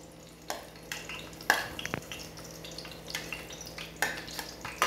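Onion and garlic sauté in a pan for chicken adobo, a steady low sizzle broken by repeated scraping and stirring clinks of a utensil against the pan, close and fairly quiet.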